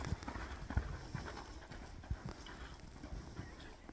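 A horse named Dubai galloping, with quick, irregular hoof clip-clops at moderate distance over a steady outdoor background and faint voices.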